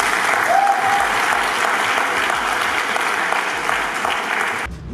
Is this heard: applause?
yes